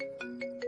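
An unanswered phone's ringtone plays steadily, its melodic tone pulsing in short repeated bursts, close and clear with no voices over it.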